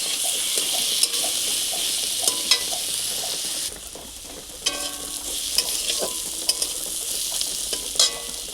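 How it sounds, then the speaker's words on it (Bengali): Onions frying in oil seasoned with five-spice, left over from frying potatoes, give a loud steady sizzle, broken by the clink and scrape of a spoon stirring close by. No voices. "পেঁয়াজটাকে ভালো করে লাল করে ভেজে নেব।"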